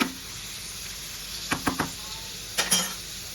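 Finely chopped onions fry in a pan, a steady low sizzling hiss broken by a few sharp metallic clinks and knocks of a utensil against the cookware.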